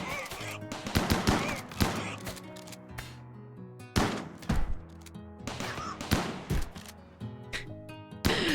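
Turrets in a colony-building game fire in loud, irregular bursts of rapid shots with heavy impacts and thuds between them, while tonal game sounds and music run underneath.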